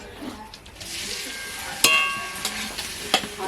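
Spice paste and potatoes stirred in a frying pan, a low sizzle under a few sharp scrapes and clinks of the spoon against the pan, close by.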